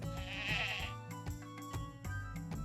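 Sheep in the farming sim Bountiful Life bleat in a short, close, tonal wavering cry, followed by game music and soft interface sounds with no talk.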